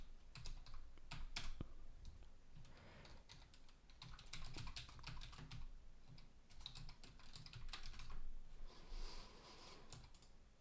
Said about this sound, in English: Terrible typing as ever.